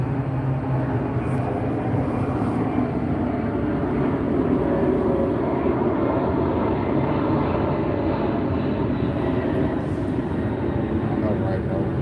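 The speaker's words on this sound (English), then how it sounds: "Wait till this plane go by." A low-flying airplane roars steadily overhead, a loud continuous engine rumble filling the whole stretch without fading, with a voice talking faintly beneath it.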